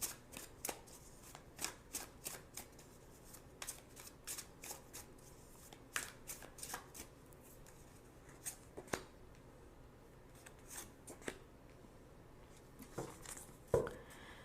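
Tarot cards are shuffled and handled in soft, irregular bursts of riffling and flicking over about fourteen seconds, close and fairly quiet, with no voices.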